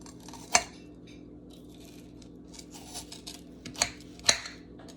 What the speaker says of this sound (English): It's a little hard to cut down the middle of a wet piece of celery.